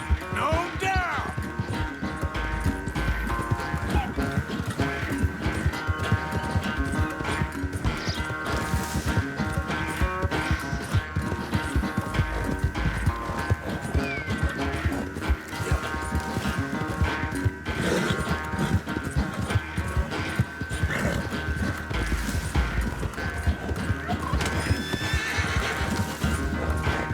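A horse in Red Dead Redemption 2 gallops in a continuous, driving clip-clop with repeated loud neighs and whinnies, close and dense throughout, set against music and game ambience, with a voice speaking over it at times.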